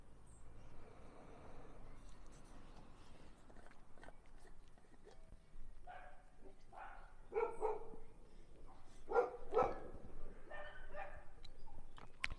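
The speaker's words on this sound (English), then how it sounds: "Not my dog. Another dog" A neighbourhood dog barks at a distance, several separate barks in a loose irregular series over a quiet background.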